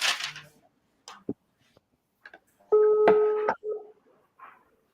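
Telephone dialing tones on a live radio talk show, a short burst of dual-tone beeps and a held tone among small clicks and handling noises, clear and close with little background.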